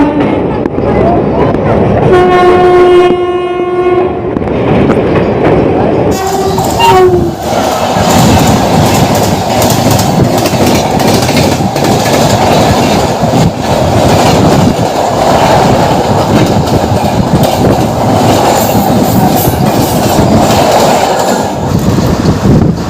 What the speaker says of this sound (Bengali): আমরা ট্রেন ছাড়ব